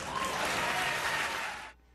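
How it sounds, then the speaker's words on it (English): Applause from an audience, a dense, even wash of clapping at moderate level that holds steady and then cuts off abruptly near the end. "You can applaud."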